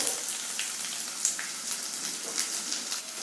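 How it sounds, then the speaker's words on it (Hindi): Onion dropped into hot oil with fennel seeds, curry leaves and green chillies for kanda poha, crackling in a dense, steady sizzle that holds evenly throughout. "इसमें डाल देंगे हम प्याज।"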